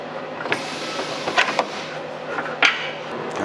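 Worn suspension on a BMW 750Li with blown, sagging struts gives off a few short, sharp creaks spread across a steady low background, with no talking.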